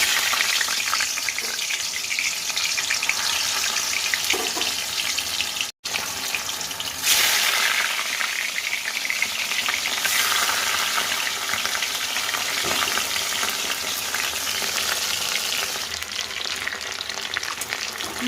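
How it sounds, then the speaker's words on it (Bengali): Hilsa fish frying in hot oil in a home kitchen, a loud dense close sizzle running continuously for over fifteen seconds with a brief break and some watery hiss, no talk. "তেলটা গরম হয়ে গেছে, মাছগুলো আগে ভাজবো।"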